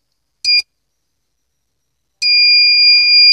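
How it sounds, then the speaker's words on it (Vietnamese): A homemade anti-theft door alarm, triggered by a relay, gives a short piercing electronic beep, falls silent, then sounds again in a loud continuous shrill tone, with no voices. "Nó báo động rất là ồn luôn bạn, mình có thể nghe rõ luôn á."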